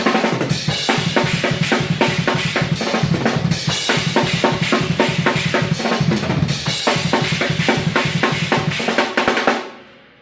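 A drum kit plays a dense, busy fill with rapid rolling hits across drums and cymbals that stays loud for about nine seconds, then cuts off sharply and fades into a ringing decay.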